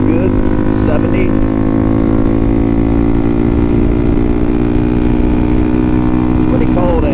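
A Suzuki DRZ400SM fitted with an FCR39 carburetor cruises at highway speed in cold, snowy weather, its single-cylinder engine droning steadily and loudly, with heavy wind rush throughout.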